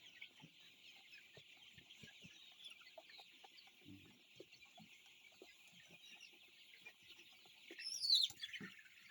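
A flock of chickens clucks and murmurs softly in a steady background chorus, with scattered nearby clucks and a louder squawk near the end.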